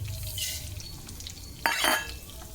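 Mustard seeds, fenugreek, cumin and ginger frying in hot oil, a soft steady sizzle with a brief louder burst of crackling and stirring partway through, close, with no talk.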